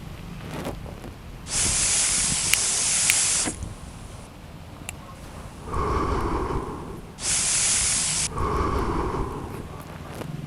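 A pressure cooker vents steam in two loud, sharp hissing bursts, each lasting about two seconds, with quieter rushing and breathy noise between them and no talking.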